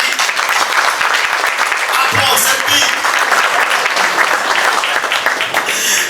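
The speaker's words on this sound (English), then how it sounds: "A round of applause for Team ZB." A loud, close burst of crowd applause at a MasterCard launch event, continuous clapping with brief whoops and voices rising through it.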